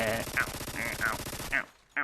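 Rapid automatic fire from a Pez Uzi, a candy-dispenser gun in an animated cartoon: a dense, steady rattle of shots for about a second and a half, then short sharp bursts with brief gaps, close and loud.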